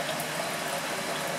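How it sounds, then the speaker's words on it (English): Nickel chloride solution is poured slowly from a lab vessel into a bigger beaker, giving a soft continuous liquid pour with a gentle splashing hiss, close and unbroken, with no talking. "I'm going to pour this slowly in an effort to decant off any of the heavy impurities"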